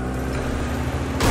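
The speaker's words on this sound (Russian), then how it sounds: "Слушай, а машина довольно быстро приехала" Vehicle arriving in the mobile strategy game Last Fortress: Underground, a steady low engine rumble with a brighter burst of noise at the end.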